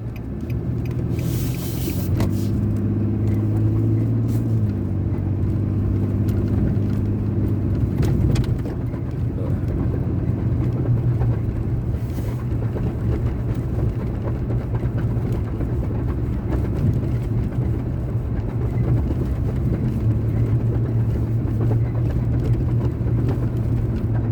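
A car drives along bumpy Pleasant Drive near bike trails, a steady near engine and road rumble with tire roar continuing throughout, with thumps and jolts from the rough surface now and then.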